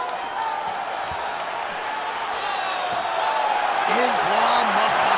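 A capacity crowd at a UFC welterweight championship fight between Islam Makhachev and Shavkat Rakhmonov roars in a steady, distant wash that swells toward the end, beneath a commentator's voice.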